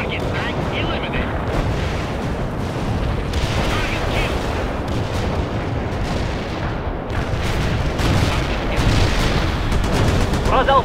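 A battle in the World in Conflict video game set in WW3 Berlin, with constant rumbling artillery and gunfire packed tightly together and a loud, unbroken din, with voices mixed in.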